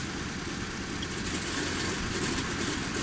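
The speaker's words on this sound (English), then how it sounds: "So I'm just starting up the engines here and I'll taxi out in just a minute" Douglas DC-3 piston engines in Flight Simulator 2004 (FS9), a steady low rumbling drone with a continuous hum, unchanging over a few seconds, no talking.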